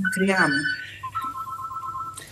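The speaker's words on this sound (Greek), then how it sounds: "Συγγνώμη για το τηλέφωνο που ακούτε, δεν μπορώ να το κλείσω τώρα." A telephone rings during a conversation: a short spoken phrase, then a steady, sustained electronic ring tone holding for about a second.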